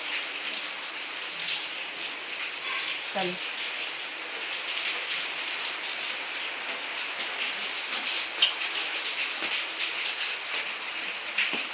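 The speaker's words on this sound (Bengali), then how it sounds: "এত বৃষ্টি পড়ছে, কি করে যে বাইরে কাজ করব" Heavy overnight rain from Cyclone Dana pours down in a steady, dense hiss that fills the whole stretch, with a person briefly speaking once near the start.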